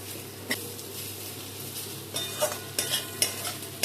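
Bamboo shoots stir-fried in a pan for a traditional Santali dish: a continuous oily sizzle with repeated scraping and clinking stirring strokes, close up and with no talking.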